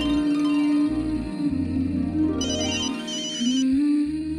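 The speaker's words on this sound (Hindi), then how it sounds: "जेठालाल का फोन" An electronic phone ringtone plays a looping, chirpy melody with sliding tones, loud and close, with no voices.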